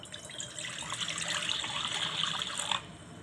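Water pours steadily into a wok on the stove in a continuous splashing gush for most of the moment, then stops abruptly near the end.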